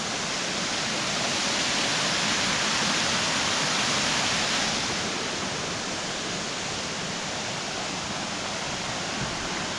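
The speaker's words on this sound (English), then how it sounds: "there's a little bit more continuation of the waterfall this way" Steady, full-bodied rush of a waterfall in Flume Gorge, New Hampshire, constant and broadband throughout, swelling slightly in the first half before settling.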